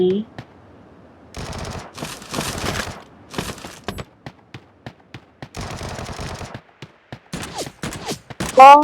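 Gunfire in the PUBG video game comes as rapid automatic bursts and clusters of single shots, loud and close, separated by brief quiet gaps, with a voice heard at the end.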